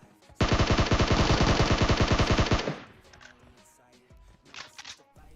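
A single long burst of rapid automatic gunfire in the mobile battle royale game PUBG Mobile, loud and close, cutting off after about two seconds into quieter game ambience.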